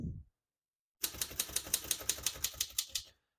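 Rapid keystrokes on a 1936 Royal O Model portable typewriter, about a dozen crisp, evenly spaced mechanical clacks in a steady run that starts after a short pause, close and clear with no talk.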